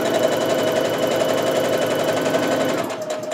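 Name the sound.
sewing machine taking first stitches of a seam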